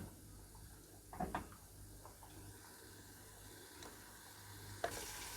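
A mixture of chicken liver and gizzards fries in a pan with a soft continuous sizzle, punctuated by a few scraping stirs of a utensil against the pan, quiet and close.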